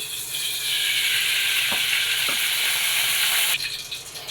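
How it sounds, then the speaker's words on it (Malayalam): Constant hot sizzle of oil heating in a pan, close and loud, with two faint clicks in the middle and the hiss dropping off near the end. "ചട്ടി ചൂടായി വന്നിട്ടുണ്ട് അതിലോട്ട് ഒരു രണ്ട് സ്പൂൺ ഓയിൽ ഒഴിച്ച് കൊടുക്കാം"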